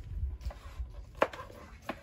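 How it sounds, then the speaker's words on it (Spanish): A knife chops loroco flower buds on a small cutting board while pupusa ingredients are prepared, with a few soft, scattered taps and one sharper knock against low background rumble. "aquí estoy picando yo el loroco"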